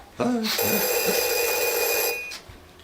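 A telephone bell rings loudly and continuously for nearly two seconds in a tense indoor hostage scene, cutting in after a brief shout and stopping abruptly, followed by near silence.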